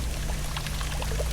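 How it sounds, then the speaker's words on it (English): Water pouring and trickling in a Japanese garden water feature, a steady close splashing flow with small drips over a low hum. "And obviously the sound of water and how it drips"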